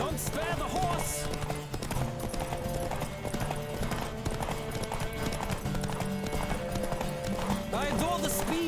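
Horse hooves clip-clopping at a steady gallop in The Witcher 3 on PC, a rapid rhythmic beat running throughout under game music, with a brief whinny and occasional talk.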